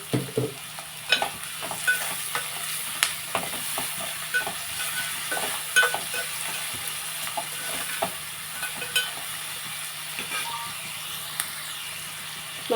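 Onions fry with salt and turmeric in a pan as part of a dried fish and raw mango curry, giving a soft steady sizzle under repeated clicks and taps of a stirring spoon, close by and without speech.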